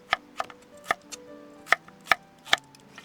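A knife cuts potatoes into thick half-moon slices on a board, sharp close chops falling in a loose uneven rhythm, about seven distinct strikes in a few seconds, with no voices.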